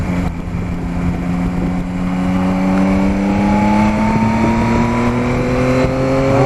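A Yamaha Tracer 9 GT motorcycle engine revs above 7000 rpm during a 1000 km service check, a loud, close, sustained mechanical whine whose pitch climbs steadily throughout with no talk over it.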